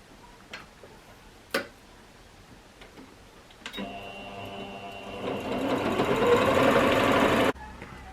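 A few light taps give way to a sewing machine stitching a cowl neck blouse, its motor whirring in a fast, steady run that builds louder for several seconds before stopping abruptly.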